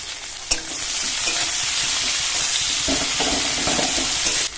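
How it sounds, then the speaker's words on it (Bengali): Onion, bay leaf, whole cumin and slit green and red chillies hit hot oil left from frying eggs, making a loud, continuous sizzle close by. Scraping stir strokes cut through the hiss now and then, with no voices. "ডিম ভাজা তেলের মধ্যে দিয়ে দেবো তেজপাতা, গোটা জিরে, একটা পেঁয়াজ কুচি, কাঁচা পাকা লঙ্কা চেরা"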